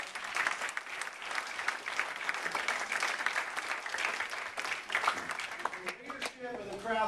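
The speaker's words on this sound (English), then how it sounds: "give it up for Connor Caudell" Sustained audience applause at a college Republicans meeting, a dense, even wash of clapping hands that fills the room for several seconds with a voice starting up near the end.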